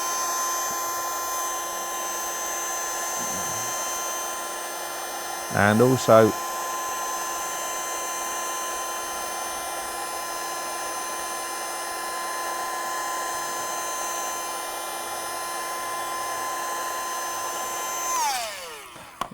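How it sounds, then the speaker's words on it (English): A vacuum cleaner pulls excess static grass fibres off a model railway layout, a steady whining drone running nearly the whole stretch, close and even, with a brief voice breaking in early and the motor winding down at the end. "What you do is you just vacuum the excess off."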